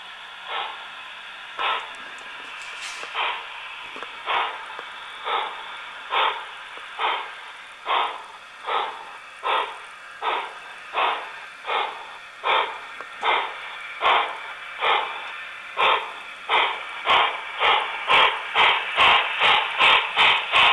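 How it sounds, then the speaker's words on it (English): An HO scale model steam locomotive's sound unit chuffs in a steady rhythm, its puffs growing louder and quicker, with a hissing tone throughout. "I'm going to start this up so you can hear the sound of it."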